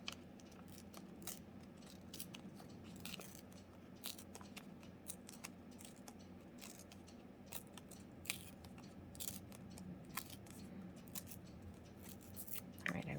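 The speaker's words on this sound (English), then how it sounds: "Tear a little bit more on the bottom." Paper being torn by hand for an art journal, a quiet close-up series of short crisp rips and crackles repeating steadily throughout.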